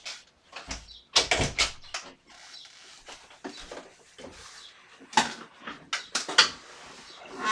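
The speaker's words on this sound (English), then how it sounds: "I'm gonna close my door." A door in a home is handled and closed, giving a string of knocks, rattles and clacks over several seconds, with a couple of louder thuds standing out, close and moderately loud, with no talk.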